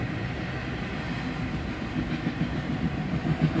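A train, likely freight with boxcars, rolls past at a steady distance, a continuous low rumble with faint rhythmic clatter of wheels growing slightly louder toward the end.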